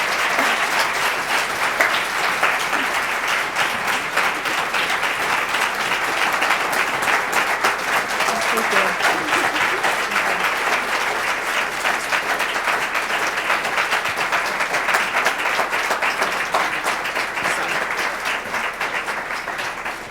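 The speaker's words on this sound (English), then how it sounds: "If we can, clap for Kiah one time" A large audience at an MLK celebration keynote applauds, a steady, dense wash of many hands clapping that holds for about twenty seconds before easing slightly at the end, with no talk over it.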